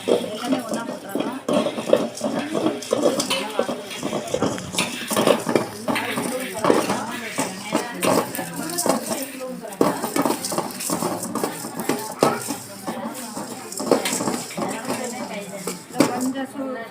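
Cumin, pepper, cinnamon and cardamom dry roasting in a pan for mutton masala, heard as constant close scraping and clinking of a utensil against the pan with a faint rustle of spices, while a voice talks over it throughout.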